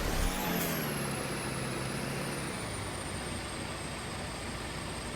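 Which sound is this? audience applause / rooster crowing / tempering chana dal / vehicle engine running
vehicle engine running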